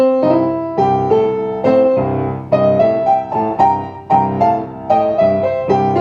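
A bluesy piano phrase with ringing chords and quick melodic runs in a swung rhythm, played up close and fairly loud with no talking.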